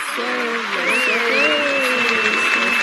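Steady applause from a crowd fills the whole stretch, with a whistle-like tone and murmuring voices riding over the clapping.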